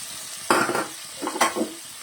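Green peas for matar paneer fry in a wok, with a soft sizzle broken by two loud scraping stirs and a few lighter clinks.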